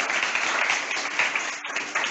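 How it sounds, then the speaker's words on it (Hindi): A classroom of schoolchildren applauding for a student, dense, close clapping sustained throughout with a brief dip near the end. "तो हिमांशु के लिए एक बार ताली।"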